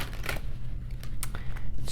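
Tarot and oracle cards being shuffled by hand, a short burst of close crisp riffling and flicking snaps over a low background hum.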